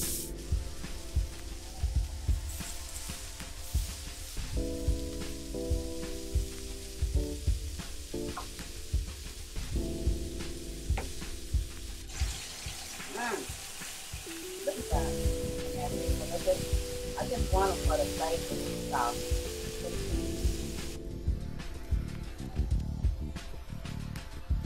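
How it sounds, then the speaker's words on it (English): Pancetta crackles in heated skillets, a steady frying sizzle running underneath intermittent clinks, scrapes and handling noises of a home kitchen, with occasional soft tones. "here we have the skillets heating. I'm just going to take the pancetta"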